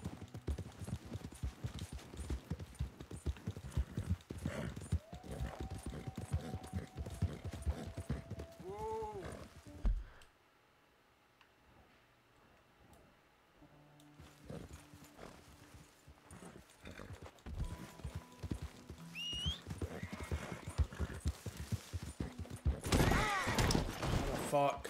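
Horse hooves clip-clop steadily in Red Dead Redemption 2, with a whinny and game sounds; the hoofbeats drop out to near silence midway, then resume with a spoken voice over them.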